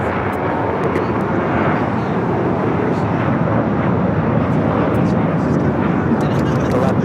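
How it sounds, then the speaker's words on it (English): A United Boeing 777 roars on its takeoff run at Los Angeles airport, a steady loud broadband jet rumble that holds for several seconds, with faint radio voices and scattered clicks over it. "There's a United 777 heading for a south side at takeoff."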